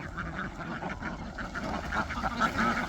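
Ducks quack repeatedly at a pond, a busy overlapping chorus of nasal calls close by with no talking.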